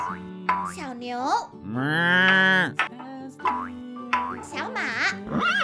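A toy cow from a children's farm-animal transport truck set gives a long, loud electronic moo lasting about a second, with a voice talking before and after it.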